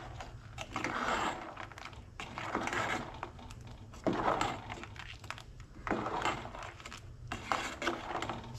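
A spoon scrapes and clatters against a pot while Goan-style crab curry is stirred with added salt, producing irregular metallic knocks and scraping swishes, close and continuous with no voices.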